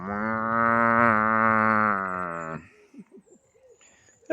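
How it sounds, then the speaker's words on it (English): A cow in a South African town lets out one long, loud, close moo that holds steady for over two seconds, followed by a few faint, scattered sounds. "These are cute cows."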